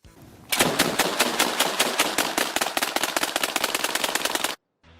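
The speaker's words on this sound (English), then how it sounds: "The Paladin is a fully automatic shotgun that fires from a strip magazine" A fully automatic shotgun called the Paladin, fed from a strip magazine, fires in the video game Highguard as a loud, rapid, evenly spaced string of close blasts that stops abruptly after about four seconds.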